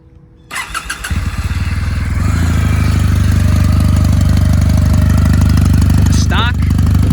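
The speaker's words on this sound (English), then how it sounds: "It's an 800cc. It's a parallel twin, so it's got a good noise to it." A 2019 Kawasaki W800 Cafe with an 800cc parallel-twin engine starts up after a brief quiet moment, then settles into a steady, loud, close idle with an even low burble that holds to the end.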